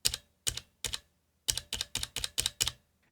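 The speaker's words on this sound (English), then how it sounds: "So the ArcPlay comes with Cherry MX brown mechanical switches." Typing on a Spigen ArcPlay mechanical gaming keyboard with Cherry MX brown switches: close, crisp bursts of keystrokes in irregular clusters, quiet, with no talking.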